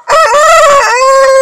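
A rooster crows once at close range, a loud, strained, sustained call rising and then holding a long quavering note, with nothing else audible.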